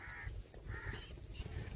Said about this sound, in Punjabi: ਇਹਨਾਂ ਨੇ ਪੂਰਾ ਰੌਲਾ ਪਾ ਰੱਖਿਆ ਚਾਰ ਪੰਜ ਕਾਂ ਨੇ